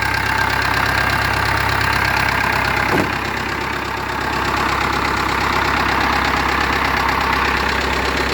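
A Champ MX5900 tractor engine idles continuously, its steady, rumbling low drone unchanging throughout with a brief knock near the start.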